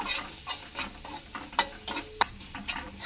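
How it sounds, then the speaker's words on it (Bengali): Spices fry in a pan with red chilli powder and turmeric powder while a spatula scrapes and clicks in a steady rhythm about twice a second over a low sizzle. "এবারে সমস্ত উপকরণগুলোকে খুব ভালো করে একটু ভেজে নেব।"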